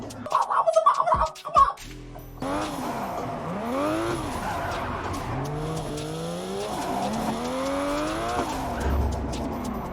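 A car drifts in the racing simulator Assetto Corsa, driven without clutch or e-brake. An engine drones steadily while long wavering tire squeals rise and fall through the slides, after a few sharp clattering knocks at the start.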